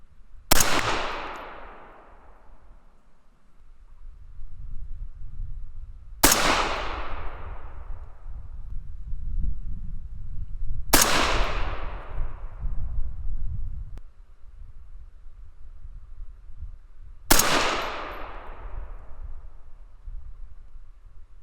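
A 6mm ARC rifle fires light 58–90 grain handloads charged with Hodgdon Lever Evolution powder: four sharp, loud shots spaced several seconds apart, each trailing off in a decaying echo, with no talking.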